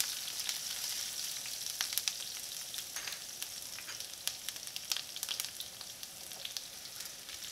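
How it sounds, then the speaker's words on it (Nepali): Ginger sizzles steadily in hot oil in a pan for a vegan cauliflower sabzi, with sharp little crackles and pops over a continuous close hiss and no voices. "त्यस्तै गरेर अदुवा हाले अदुवालाई पनि एकछिन भुट्ने"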